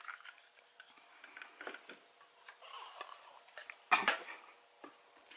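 Acrylic paint being stirred together with Floetrol in a cup, with light scraping and tapping of the stir stick against the container, mostly soft with one louder knock, close by.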